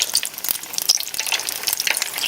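Egg rolls crackle and sizzle in hot frying oil, a dense, continuous spattering hiss with small popping bursts throughout, close and fairly loud, with no talking.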